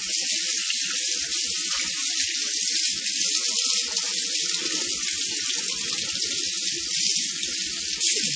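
Tap water streams steadily over an etched printed circuit board, a constant close hiss of running water with faint splashes and no pauses.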